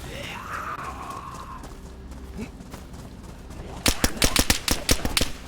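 Background rumble and a faint tone give way to a rapid burst of sharp gunshots near the end, crackling loud and close in quick succession, from the video game DayZ.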